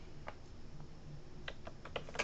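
Quick bursts of typing on a computer keyboard, a few soft, close key clicks clustering toward the end of a short, quiet stretch without speech.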